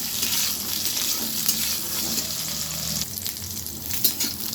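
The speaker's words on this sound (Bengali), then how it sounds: "ডাঁটাগুলো আমি ভালোভাবে ভেজে নেব।" Drumstick stems and potatoes fry in hot oil with a steady, close sizzle and occasional stirring scrapes throughout.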